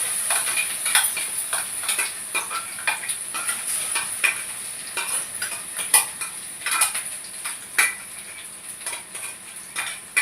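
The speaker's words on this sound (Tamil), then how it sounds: "சும்மா ஒரு லைட்டாக அந்த சூட்லேயே அப்படியே வதக்கினா போதும்." Ground curry leaf paste sautés lightly in a pan, giving a soft sizzle under repeated clinks and scrapes of a utensil stirring against the metal.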